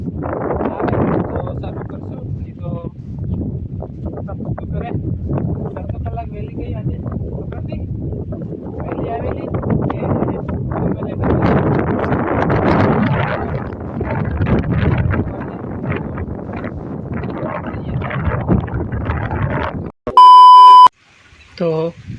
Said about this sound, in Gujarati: વરસાદ પણ પડે છે હવે થોડો થોડો અને પવન પણ ચાલુ છે